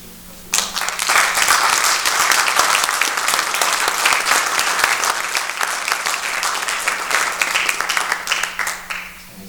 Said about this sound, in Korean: 성도님들께 좀 박수 좀 부탁드립니다